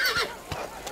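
A horse whinnies in a short, fairly close burst with a breathy rising-and-falling call, heard alone with no talk over it.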